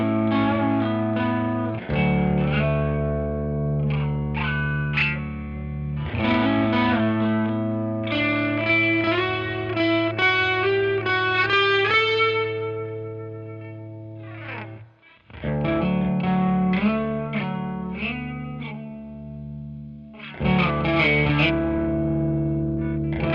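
Electric guitar with Gish custom pickups, slightly driven through a Marshall amp, plays a continuous melodic phrase of sustained chords and runs with brief pauses, close and full.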